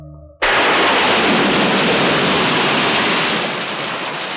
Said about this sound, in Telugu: వర్షం పెద్దది అయిపోయింది